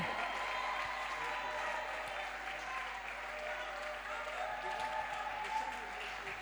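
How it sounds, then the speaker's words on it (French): A church congregation applauds and cheers for the Lord, steady dense clapping mixed with crowd voices held at an even level throughout, moderately distant in a large room. "Église, acclamons pour le Seigneur alors qu'il vienne"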